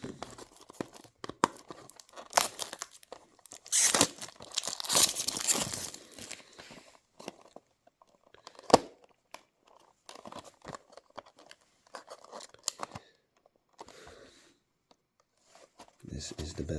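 Plastic packaging is torn and crinkled off a boxed diecast Xcartoys JMC KaiRui N800 cargo truck model, with close, intermittent ripping and rustling bursts alongside a person talking.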